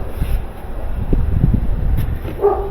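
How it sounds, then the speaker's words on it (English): A dog barks a few times at a distance, faint under steady wind-like background noise. "What's he barking at?"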